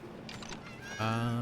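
Farm turkeys and peafowl call: soft scattered noises give way to one loud, drawn-out harmonic cry that carries to the end, close and clear.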